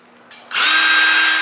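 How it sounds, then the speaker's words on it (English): A power drill bores through the metal ceiling of a Sprinter van, spinning up with a short whine and then a loud, steady high-pitched grinding drone up close. "I just put the drill through the ceiling of the van."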